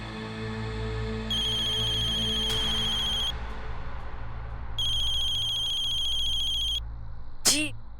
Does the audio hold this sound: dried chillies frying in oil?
no